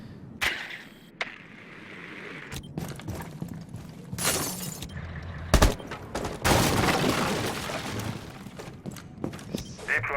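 Gunfire and sharp impact bursts in a War Lords versus KGS group-stage video game match, scattered through a busy, loud mix of crashes and effects with no talk.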